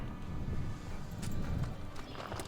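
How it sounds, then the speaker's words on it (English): A horse walking up indoors or by a building addition, hooves clip-clopping steadily over a low rumble of background noise, fairly close, with no talk over it. "here comes our horse Jack."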